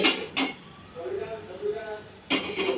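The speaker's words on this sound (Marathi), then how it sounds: "एकदा झालं तवा ठेव त्याच्यावर" A metal tawa griddle is set onto a home gas stove, giving sharp clanks at the start and again near the end, with people talking in between.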